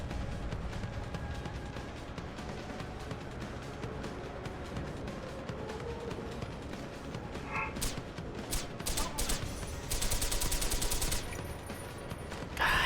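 Sustained gunfire in Deus Ex: Human Revolution rattles along as dense, fairly quiet bursts, with a few sharper, brighter shots and clattering bursts standing out toward the end.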